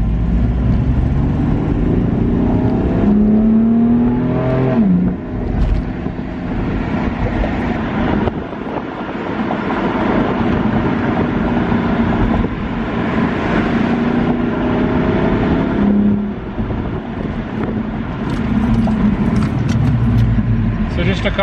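A 2016 BMW M4 cruising, its engine humming and droning under ongoing conversation inside the cabin, with rising revs audible at a few moments.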